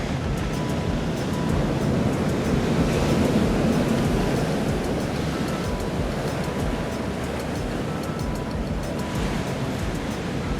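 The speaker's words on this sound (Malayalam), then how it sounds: "കൊടുങ്കാറ്റ് എന്ന് തന്നെ പറയണം പിടിച്ചു നിന്നില്ലെങ്കിൽ ബോട്ടിൽ നിന്നും പറന്നു പോകുന്നൊരവസ്ഥയാണ് അനുഭവപ്പെടുന്നത്" Stormy wind and rough sea waves batter a boat heading to Seal Island off Hout Bay, a loud, continuous roar of gusts and surf with wind buffeting the microphone throughout and no voices.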